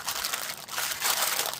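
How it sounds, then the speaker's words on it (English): Baking paper crinkles and crunches steadily as it is pressed down by hand onto a pan of tie-dye rice krispie treats, a close, continuous rustling with no voices. "put some baking paper on it and just push it down"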